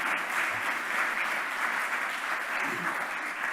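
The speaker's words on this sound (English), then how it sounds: "so please a big applause for them" An audience at a deep learning symposium in Barcelona applauds the conference organizers, giving steady, sustained clapping from within the crowd with a faint voice underneath.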